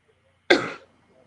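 A single short, sharp cough bursts out close by, lasting under half a second amid otherwise quiet surroundings.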